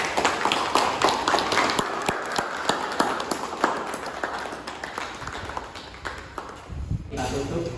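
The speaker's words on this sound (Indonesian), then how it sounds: "Beri aplaus kepada Zizi dan Diki." Classroom applause for two students, Zizi and Diki, at the close of a morning school session: a steady run of dense clapping from a group that tapers off toward the end.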